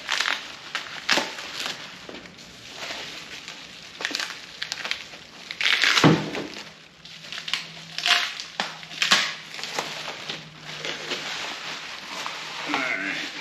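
Plastic packaging on a new muffler for an Allis Chalmers 180 tractor is unwrapped close by, with irregular bursts of crinkling and crackling, one sharp tear, and a few quiet pauses between handlings.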